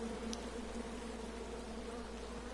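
Angry bees from a King's Quest game buzz in a steady, continuous drone with a couple of higher whining tones, moderately loud and alone throughout.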